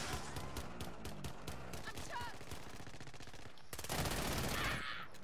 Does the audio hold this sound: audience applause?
no